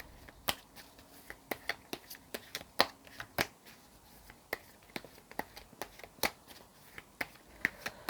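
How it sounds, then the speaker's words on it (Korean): Tarot cards are shuffled by hand in sharp, irregular snaps and flicks, close and clear, with no talking. "얘는 그냥 이렇게 다시 섞을게요"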